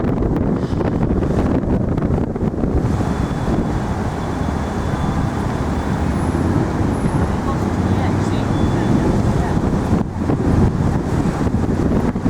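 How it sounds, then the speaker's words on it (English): Strong wind gusting outdoors at a waterfront in New York City, producing continuous loud roaring buffeting against the microphone for the whole stretch, with faint traffic noise beneath. "It's a little windy out here."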